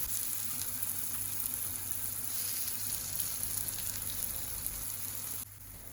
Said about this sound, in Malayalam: നമുക്ക് ഇത് ഓരോന്നായി മറിച്ചിട്ട് അപ്പുറവും നമുക്ക് ഫ്രൈ ചെയ്ത് എടുക്കാം